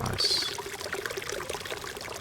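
Water pours steadily onto a garden plot in the survival game SCUM, a close, continuous splashing trickle with no talking.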